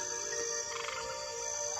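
A small tree frog croaks in a steady, faint trilling pattern, with a thin insect-like buzz in the background and no talking.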